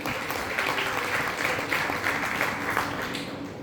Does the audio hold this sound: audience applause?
yes